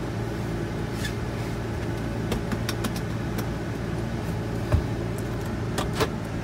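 A 2002 Chevrolet Suburban with about 241k miles on a test drive, its steady engine and road drone filling the cabin, with a few faint clicks and a soft thump along the way.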